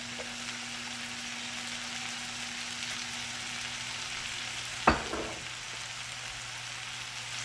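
Olive oil frying steadily in a pan, a continuous close sizzle with a low steady hum beneath and one sharp clack near the end.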